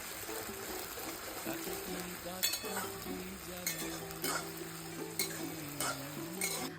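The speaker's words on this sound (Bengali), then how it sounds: "এরপরে আমরা কিছুটা সময় ধরে মশলাগুলো ভালো মতন কুক করে নেব।" Onion cooks with ginger and garlic paste and spices in a pan for a country-style chicken curry. It gives a quiet, steady sizzle with intermittent utensil clicks under soft background music.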